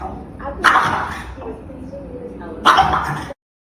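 A French bulldog lets out two short barks about two seconds apart, fairly close and loud, with some quieter voices in between.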